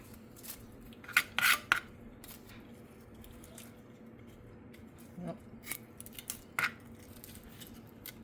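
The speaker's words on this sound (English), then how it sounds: "we're taking off that top layer of the onion" Dry papery onion skin is peeled off by hand, giving a few brief crinkly crackles and rustles, clustered early and again near the end, over a quiet kitchen background.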